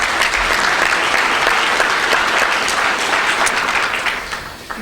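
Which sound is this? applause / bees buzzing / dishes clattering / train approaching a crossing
applause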